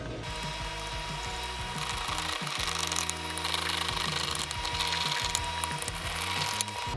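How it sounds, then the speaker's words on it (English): Screws are driven down into a 1980s Harmony H802 guitar, producing a steady ratcheting mechanical whir up close over a dense, continuous background hum. "Start our screws. Get them screwed down."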